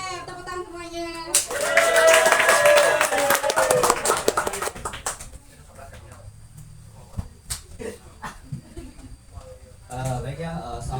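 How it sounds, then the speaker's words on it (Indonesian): Students clap for the next performer at a school event, a burst of hand claps swelling then fading over a few seconds, followed by scattered taps and murmuring voices. "Tepuk tangan semuanya."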